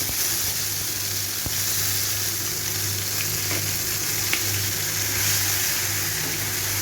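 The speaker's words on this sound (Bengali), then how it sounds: "তেলটা গরম হয়ে গেছে এবারে আমি এই পাতা বাটাটা এর মধ্যে দিয়ে দেবো" Kharkol leaf paste hitting hot oil in a pan, giving a steady, broad sizzle and crackle that holds evenly throughout with a faint low hum underneath, no talking.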